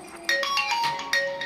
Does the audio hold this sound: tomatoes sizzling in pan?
no